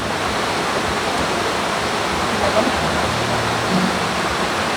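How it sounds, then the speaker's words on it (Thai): Steady rushing water from a waterfall and stream beside a forest campsite, a continuous dense wash of noise with no breaks, fairly close and even in level throughout. "เสียงน้ำบรรยากาศแบบนี้ก็อาจจะทำให้หลับยาก"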